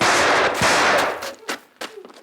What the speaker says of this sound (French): Oh, l'indigène tire bien avec son fusil.